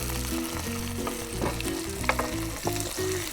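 Whiting and flathead fish fillets fry in a little oil in a pan, giving a steady, close sizzle and crackle with a few brief louder pops and spits, without talk.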